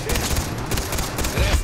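Rapid bursts of automatic gunfire from the video game Far Cry 3 in co-op play crackle loudly in quick succession, dense and punchy, with a voice faintly mixed in.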